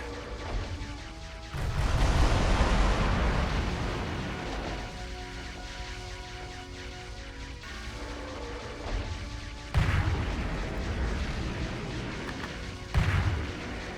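Weapon fire from the mech action game Metal Wolf Chaos XD, with the trigger held down: a dense, sustained stream of booming, crashing shots that keeps going, with louder bursts near the start and toward the end.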